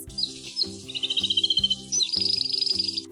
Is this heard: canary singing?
yes